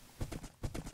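Horse hooves clip-clop in Minecraft, two quick pairs of steady, rhythmic thuds at moderate volume.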